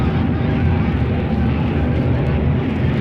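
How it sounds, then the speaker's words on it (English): Airplanes flying overhead on a comedy stereo test record, a loud, continuous engine roar that fills the whole stretch without a break, with no voices over it. "The planes you hear above us should be coming from both the right and the left."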